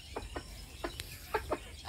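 A rooster and hens feed on scattered rice and give several short, soft clucks in an uneven rhythm, faint over a low background hum.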